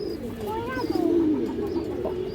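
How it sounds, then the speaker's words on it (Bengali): A pigeon gives a soft, close cooing call, one rolling coo lasting about half a second against a low, steady background murmur. "এটা সুন্দরী কবুতর দর্শক, সুন্দরী কবুতর মাশাআল্লাহ।"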